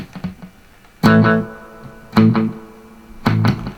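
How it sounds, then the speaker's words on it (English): An electric guitar runs through a delay pedal set for a single slapback repeat, three loud separate notes, each trailed by a quick faint echo, with quiet picking between them. "This is your note, and then there's 1 slapback note after that."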